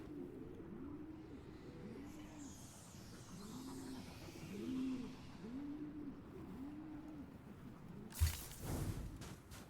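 Pigeons coo in a steady, repeating low rhythm from the video game Destiny, soft and fairly faint, broken near the end by a sharp louder burst.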